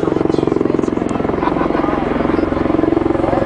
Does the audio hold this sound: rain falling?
no